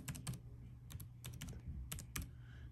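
Keystrokes on a computer keyboard, quiet and close, tapped in short uneven bursts with brief pauses between clusters of keys, alone with no talking.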